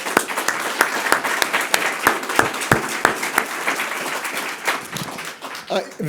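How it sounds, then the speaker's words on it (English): An audience at an accountability and reform reception claps in sustained applause, a dense wash of many hands, fairly close and loud. The applause thins slightly toward the end as voices start to come through. "So I think we should all give him a round of applause."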